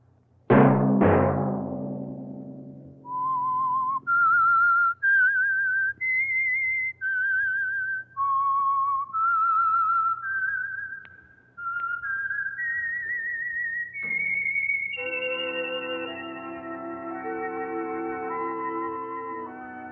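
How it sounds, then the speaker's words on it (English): Lone whistler carries a bright, wandering melody for a radio mystery program's signature theme, with sustained notes rising and falling over a soft backing, ending as a fuller orchestral chord swells in. "Let that whistle be your signal for the Signal Oil program, The Whistler"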